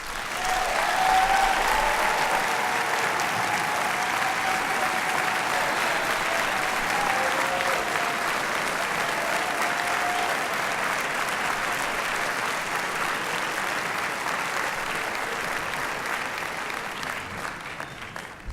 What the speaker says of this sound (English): Ladies and gentlemen, I would like you to applaud the First Lady of Morehouse College